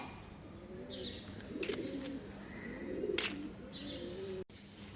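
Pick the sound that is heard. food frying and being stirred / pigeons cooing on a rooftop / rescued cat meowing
pigeons cooing on a rooftop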